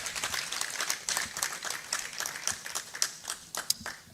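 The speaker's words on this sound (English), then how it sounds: "can we please give her another round of applause?" Audience applause at a book launch: a steady patter of many hands clapping at moderate level for about four seconds, with no talk over it.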